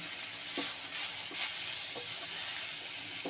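Greens fry in a small pan with a soft steady sizzle, while a spoon stirs with a few light scraping taps at irregular intervals, close but fairly quiet, with no talk.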